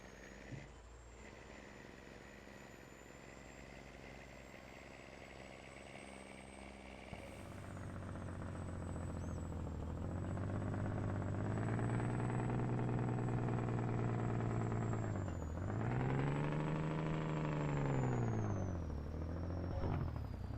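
Truck engine with a jake brake in Farming Simulator 22: a quiet idle gives way to a loud, rumbling engine drone that swells, dips briefly and surges again with a rhythmic, throaty pulse.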